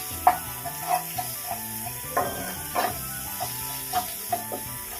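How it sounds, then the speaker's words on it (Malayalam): Onion with ginger garlic paste sautés in a pan, a steady soft sizzle broken by repeated scraping stirs of a spoon at a fairly regular pace, close and moderately loud. "അത് ചേർത്തിട്ട് നന്നായിട്ടൊന്ന് വഴറ്റിയെടുക്കാം"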